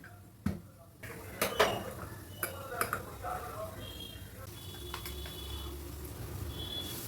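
A pressure cooker with lentils inside is closed in a home kitchen, giving a few sharp metallic clinks and clatters of the lid and pot over a low background hum, with no talking.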